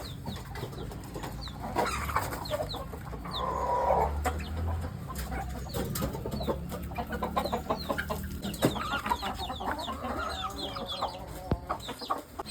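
Hens cluck and chatter all around in a busy free-range native chicken farmyard, with a rooster's crow rising partway through over constant low background noise.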